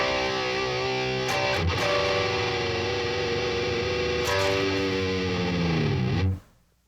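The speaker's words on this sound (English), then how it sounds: "It's going to do more of like a flanging, subtle flanging effect" Electric guitar played through a BOSS Katana MK2 amp with a short delay giving a subtle flanging sweep, sustained chords ringing loud and steady for about six seconds, with a couple of re-strikes before cutting off abruptly.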